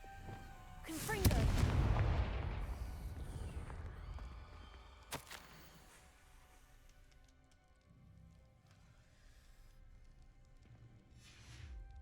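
Confringo fire spell explosions in the video game Hogwarts Legacy: one heavy, booming blast near the start crackles and rumbles away over a couple of seconds, followed by a sharper lone crack and then a low ambient game bed.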